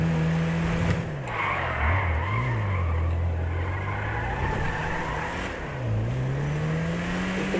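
Tires squealing as a car skids in the GTA 5 video game, a loud sustained engine and screech with sliding pitch sweeps running the whole way, with no clear crash impact standing out.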